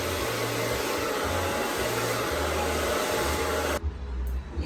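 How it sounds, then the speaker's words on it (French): A hair dryer blows hair dry for a light blow-dry in a beauty salon, a loud, steady, close airflow roar that drops off near the end. "là on va faire un brushing léger pour sécher les cheveux"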